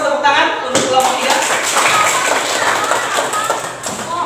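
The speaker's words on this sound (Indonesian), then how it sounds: "Kita kasih aplaus, tepuk tangan untuk kelompok 3." Students in a classroom clap for a group that has just presented, a busy burst of hand claps mixed with voices and some thumps from the room.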